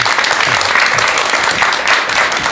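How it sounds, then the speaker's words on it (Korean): Steady, dense applause from a lecture audience welcoming a speaker to a talk, loud and close, sustained without break. "큰 박수와 함께"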